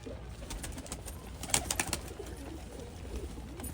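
Pigeons feed at a loft, giving soft, low cooing with a brief flurry of sharper clicks and flutters midway, fairly close and otherwise quiet.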